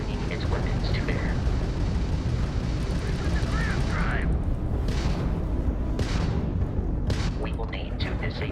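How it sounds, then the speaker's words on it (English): Crimson Fleet ship weapons firing during ship combat in Starfield: a dense, steady roar of rumbling blasts and bursts with a few sharper cracks near the end, loud and continuous throughout. "that's a Crimson Fleet ship bringing its weapons to bear"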